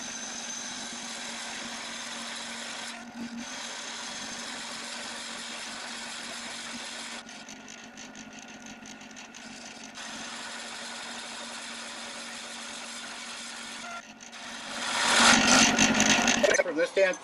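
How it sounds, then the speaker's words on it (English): A drill bores into a spalted Siberian elm vase blank, a steady mechanical whir with brief pauses and a louder grinding surge near the end, and a voice talks over it. "here we go, doing some drilling"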